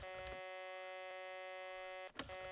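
A loud, steady droning truck engine hum with a harsh buzzing tone holds throughout, broken by a couple of brief clunks, in the video game My Summer Car.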